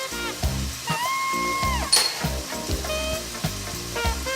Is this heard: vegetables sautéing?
yes